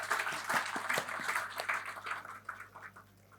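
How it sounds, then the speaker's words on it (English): Scattered audience applause at a smart computing conference, a steady patter of claps that thins out and fades toward the end, heard alone without voices. "let's give a big round of applause to all those without whom today would not have been possible"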